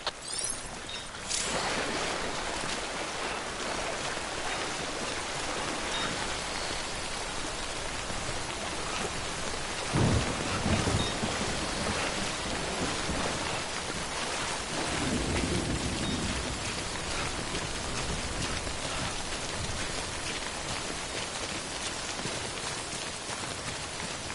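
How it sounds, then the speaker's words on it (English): Steady heavy rain pours in Death Stranding, with low rumbles of thunder rolling underneath around the middle, a continuous wash of sound with no voices. "Don't stay out in the rain any longer than you have to."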